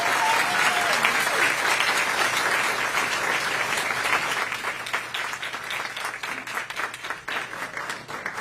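School board meeting audience applauding a teacher, a loud dense burst of clapping that holds steady and then thins into scattered claps near the end.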